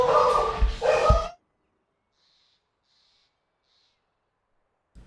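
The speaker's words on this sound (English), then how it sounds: "My dogs are going bananas." Dogs barking in a short loud burst of two or three barks up close, followed by near silence with faint high chirps and a soft thump at the end.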